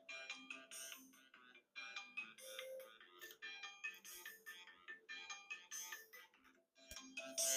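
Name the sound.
mobile phone ringing with incoming call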